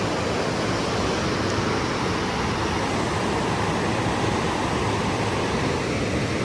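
A river swollen by monsoon rains rushes past a temple near a bridge, a loud, steady broadband roar of flowing water with no breaks and no voices.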